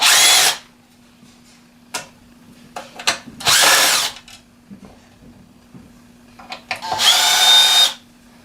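A power drill whirs in three short bursts, backing Phillips screws out of the rear of a fireplace fan, with tool clatter and small handling knocks in the pauses between runs.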